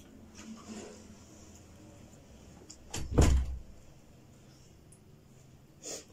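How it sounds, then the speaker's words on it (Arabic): A door is shut indoors with one loud, close thump and rattle, alone in a quiet room, with a faint knock or click following a few seconds later. "صوت الباب مكبوب"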